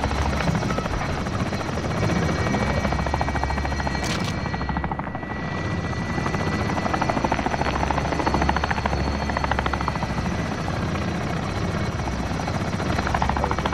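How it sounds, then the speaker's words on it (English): A video game chopper gunner helicopter drones loud and steady with continuous rotor thrum throughout, alone with no voices and a brief dip in the middle. "Friendly chopper gunner on"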